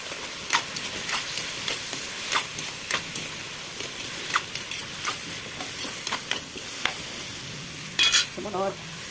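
Eggplant goes into sizzling pakbet, a Filipino vegetable stew, while a utensil stirs and scrapes the pan. The frying hiss runs steadily throughout, marked by sharp clicking taps and scraping, with a louder clatter near the end.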